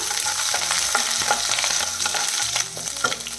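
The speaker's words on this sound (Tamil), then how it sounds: "ஒரு நிமிஷம் இதை வதக்கிடலாம்" Garlic, green chili and curry leaves frying in a pan, with steady close sizzling and repeated stirring scrapes from a spoon throughout, no talk.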